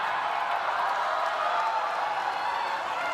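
Basketball arena crowd at a PBA Commissioner's Cup game between Meralco and San Miguel, a steady, loud roar of many voices with faint clapping, sustained evenly throughout without clear peaks.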